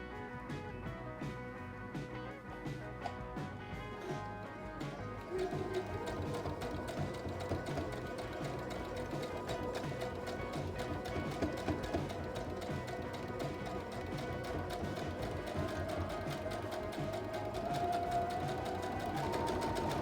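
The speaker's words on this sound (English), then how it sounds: "And we're going to sew all the way up one side." A sewing machine runs steadily as it stitches a side seam on a fabric bag. The whirring motor is continuous and fairly close, and it gets slightly louder partway through.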